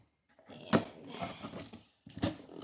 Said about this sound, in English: finally got that tape popped open